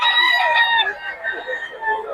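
A rooster crows loudly and close by at a Bocaue chicken sale, one long, drawn-out crow with a few quieter clucks trailing at the end.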